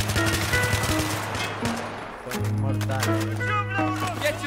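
Rapid automatic gunfire in a Battlefield 3 multiplayer match, dense bursts of shots over a droning engine hum, with voices chatting on top.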